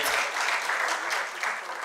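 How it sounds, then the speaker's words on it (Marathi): An audience at an author's talk and discussion event bursts into strong, sustained applause, a dense clatter of many hands heard close, with a faint voice underneath. "जोरदार टाळ्या वाजून आपण त्यांचं अभिनंदन करूया"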